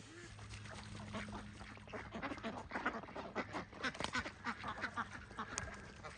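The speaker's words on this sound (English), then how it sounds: "The ducks are pretty rowdy, hey?" A rowdy flock of farm ducks quacks loudly and continuously nearby, in dense overlapping bursts that build in intensity, with a faint steady hum underneath.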